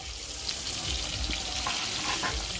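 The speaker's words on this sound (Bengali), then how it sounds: "এবার একে একে আমি এই ভাজাগুলো সব ভেজে নেব।" Festival food, a variety of fried dishes, sizzles in hot oil in a continuous, fairly loud crackle with faint clatter close by.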